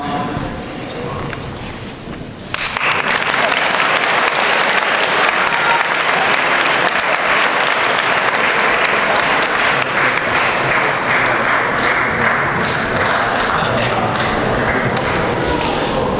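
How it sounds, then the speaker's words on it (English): Audience applause at a Stanstead College academic assembly, starting after a quieter opening and then swelling into loud, dense, sustained clapping from a large school crowd that keeps going without break. "we're usually pretty good at clapping around here"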